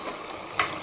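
A brief sizzle and stir sounds from a pan while chicken kuzhambu cooks, with a quick louder scrape and hiss near the end of the short moment, close and without talk.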